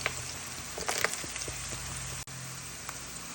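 Peanuts sizzling in hot oil along with green chillies, cumin and mustard seeds, a steady close hiss with small pops and crackles scattered through it.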